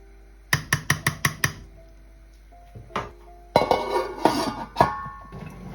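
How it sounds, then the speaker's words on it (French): A cooking pot of meat stew is handled on the stove: six quick metallic clinks, a pause with a faint knock, then a burst of rattling pot and lid clatter. "je vais venir contrôler la marmite"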